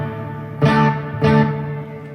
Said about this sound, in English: Turn the reverb on.